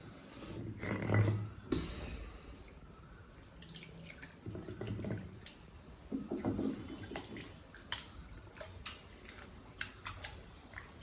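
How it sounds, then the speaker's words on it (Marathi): Water trickles and drips into a sink basin, a soft uneven splashing with a few louder bursts, close by and without talk. "आता माझं हे पाणी बेसिनमध्ये चाललेलं आहे"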